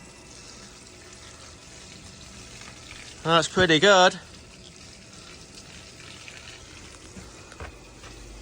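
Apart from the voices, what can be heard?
converted Makita pump running and pumping water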